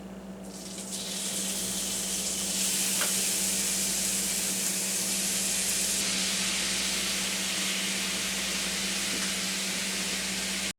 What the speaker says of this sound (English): now we let the meat cook for a minute